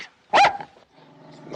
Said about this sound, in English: What are you doing with that dog?